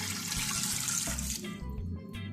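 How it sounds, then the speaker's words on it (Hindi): Water runs in a steady gush from a tap into a pot, the three glasses of water for a mutton yakhni pulao broth, loud and continuous with no speech. "हमने इसमें 3 गिलास पानी डाल दिया है"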